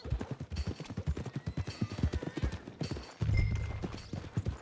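Horse hooves clip-clop at a steady walking rhythm in the Red Dead Redemption 2 video game, close and fairly loud over a low rumbling background, with a denser thudding burst near the end.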